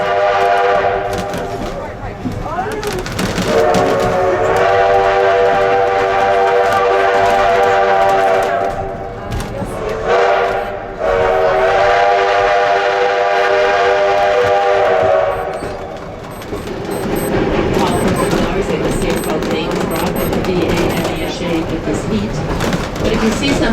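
An 1880 steam train running from Keystone to Hill City in South Dakota, its whistle sounding in long, loud blasts over the rumble of the cars, with voices talking throughout.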